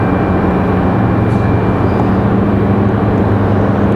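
An aircraft at Raleigh Durham International airport rumbles on the ground, a loud, steady, low engine roar that holds unchanged for the whole stretch.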